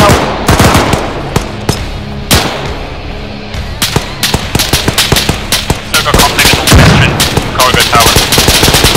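Gunfire in the ARMA 3 video game combat, loud close rifle shots and rapid automatic bursts cracking in irregular clusters, growing denser toward the end.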